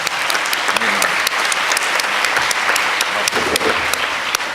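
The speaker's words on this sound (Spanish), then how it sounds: "a quien damos un cordial aplauso" A crowd applauds steadily at the opening of a Mexican cuisine event, many hands clapping together in a dense, sustained burst that fills the room.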